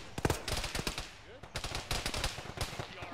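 Bursts of rapid gunfire in a ShackTac military-sim video game, irregular volleys of sharp shots near and far with a short lull in the middle, and a voice faintly under the shooting.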